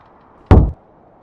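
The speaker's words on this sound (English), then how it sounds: "A single loud rap shook the room." One heavy, loud rap on wood, a single sharp thud with a short resonant tail, alone in a quiet room as a spirit-knocking effect.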